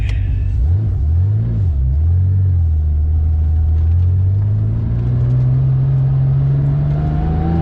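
A 1980s Porsche DP Motorsport DP935 race car engine revs up and down, then climbs steadily in pitch as it accelerates, a loud, close rumbling drone heard from inside the car.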